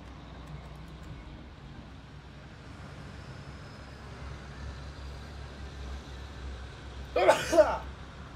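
A single sharp sneeze bursts out near the end, loud and close, over a steady low hum of bus engine and road noise in a bus simulator.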